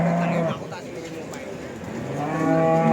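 Cattle at a cow market low loudly and close by, with a long moo at the start and another rising at the end, over a murmuring crowd background.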